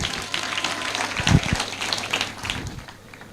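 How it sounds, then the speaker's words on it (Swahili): Audience at an outdoor school prize-giving gathering in Kiharu, Kenya, claps in a steady scattered patter, with a few louder thumps midway, before the applause thins out toward the end. "Mpigeni makofi."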